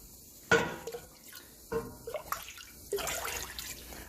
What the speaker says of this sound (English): I like to backfill my measuring cup just to make sure that I get everything out.